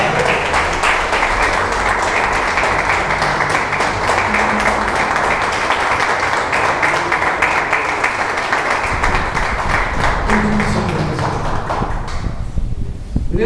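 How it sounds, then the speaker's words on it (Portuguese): Church congregation applauding after the pastor's request, a dense, steady wash of hand claps filling the whole stretch with a low rumble of room noise beneath, thinning slightly at the very end. "Você pode dar uma salva de palmas para ele?"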